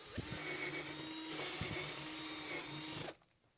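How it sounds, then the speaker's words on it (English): A power drill whines steadily while enlarging a hole in half-inch plywood on a model railroad layout, a close buzzing drone with slight bumps, then it stops abruptly. "I'm going to take this drill and I'm going to move it in line with where the throw rod goes"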